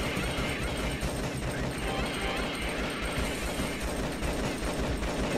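Pistol fire in the shooter video game Alien Shooter, a dense, unbroken barrage of rapid shots and game noise at constant loudness, with some voice mixed in.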